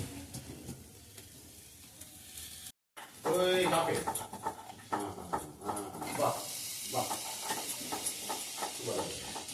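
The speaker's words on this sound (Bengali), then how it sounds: "নারকল ভাজা শুরু হয়ে গেছে" Grated coconut frying with jaggery in a pan for Sankranti pithe, sizzling and being stirred at moderate volume under frequent nearby talk, with a brief dropout early on.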